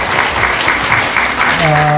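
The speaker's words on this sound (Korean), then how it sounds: "다시 한번 박수로 감사드리겠습니다" Audience applause at a panel forum, a dense steady clapping throughout the short span, with a voice beginning to speak near the end over it.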